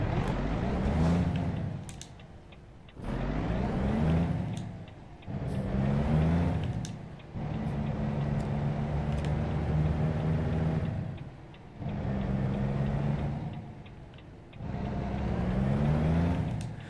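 A Volvo VNL truck in American Truck Simulator roars through repeated gear pulls, the engine note rising and dropping in long waves as it accelerates, loud and close throughout.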